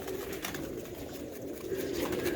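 Almari pigeons belonging to Ustad Dilawar Khan coo softly at close range, low throaty murmurs overlapping against faint background noise.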